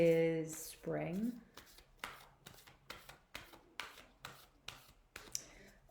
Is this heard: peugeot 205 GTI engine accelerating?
no